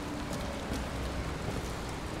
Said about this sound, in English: This rain has to be synthetic.